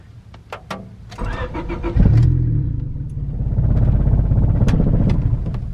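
A turbocharged Honda D16Y7 car engine cranks with a few clicks and whirs, then catches and fires up loudly, settling into a rough idle that swells as the revs rise, heard up close.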